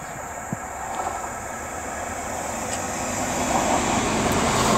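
A West Midlands Railway train, a Class 170 unit, approaches Worcester Foregate Street station, its low rumble building steadily from moderate to louder over several seconds, with no talking.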